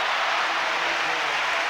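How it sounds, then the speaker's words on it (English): Crowd at a 2006 year-end championship tennis match between Sharapova and Clijsters applauding Clijsters, a dense, steady wash of clapping filling the short moment. "Listen to the applause for Clijsters."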